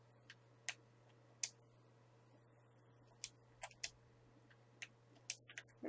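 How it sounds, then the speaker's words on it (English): Sparse typewriter key clicks from the video game Resident Evil Village, single sharp taps at uneven intervals over a faint hum, close and quiet with no talking. "A typewriter."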